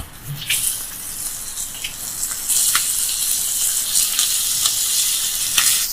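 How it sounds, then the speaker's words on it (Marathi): Gabholi fish, coated in rice flour, fry in a pan with a steady, loud, crackling sizzle that grows denser midway, with occasional pops and spatters throughout and no talking. "मासे तळताना घमघमाट सुटलेला"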